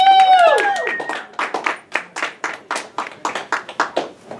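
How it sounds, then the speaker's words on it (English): Comedy club crowd claps for a comedian in a rhythmic run of distinct hand claps after a cheering whoop, moderately near and fairly sparse. "Give a round of applause for Adam Hare"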